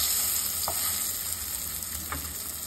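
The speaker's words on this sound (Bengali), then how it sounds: "এই যেমন মাছ ভাজা হচ্ছে" A whole fish fries in hot oil, giving a steady, close hiss of sizzling with a couple of faint clinks from stirring and no voices.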